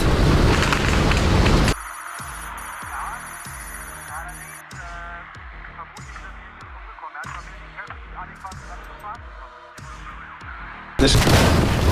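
Repeated heavy booms and cracking shots roll through World War II battle ambience in the video game Squad 44, following a loud burst of noise and ending in another roaring blast.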